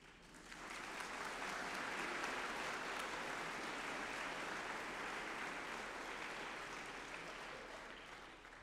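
A graduation audience breaks into sustained applause that swells within the first second, holds steady and full for several seconds, then tapers slightly toward the end.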